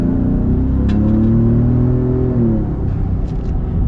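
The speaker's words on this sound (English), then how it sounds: "Now we're gonna get one last acceleration here before we sum things up." A custom Gears of War edition Ford Raptor pickup truck accelerates with a loud, close, rising engine roar and turbo whir, followed by faint hissy turbo blow-off bursts as the revs settle.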